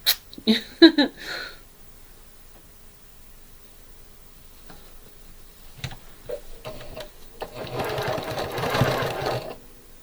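A sewing machine stitches a quilt fabric piece onto a background square in a short close burst near the end, after a few quick clicks and handling sounds.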